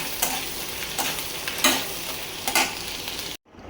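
Ingredients for a dried fish (shutki) bharta fry and get stirred in hot oil, giving a steady close sizzle with a few louder scraping stirs before it cuts off abruptly.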